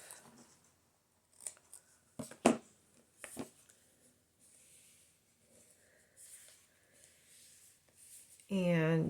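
Scissors cut paper for a small bird-themed junk journal, making a few distinct crisp snips in quiet surroundings, with a voice speaking briefly at the end.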